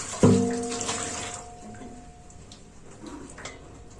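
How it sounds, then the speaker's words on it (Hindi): A metal cooking pot is rinsed with water in a home kitchen: one sharp, close splash and clank with a brief ringing tone, then quieter trickling and faint drips fading away, with no talking. "भगोना भी साफ करके रख देती हूँ लगे हाथ"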